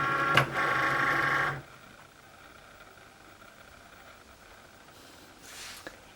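A Cricut cutting machine loading a mat carrying pink vinyl, giving a steady close motor whir for about a second and a half, then quiet room tone and a faint brief whir near the end.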